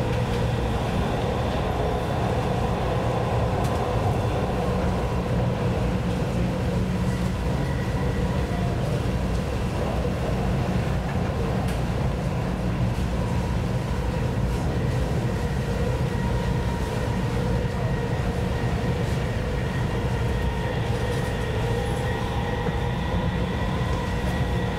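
Dubai Metro Red Line train running steadily, a continuous loud rumble and hum inside the carriage with rail noise, no talk, constant throughout.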